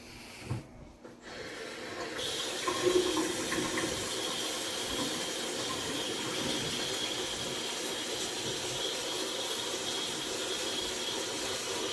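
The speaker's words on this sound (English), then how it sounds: "Gotta wash my hands." Hands washed under a running kitchen tap: a steady, close hiss of flowing water starting after a brief bump and continuing evenly throughout.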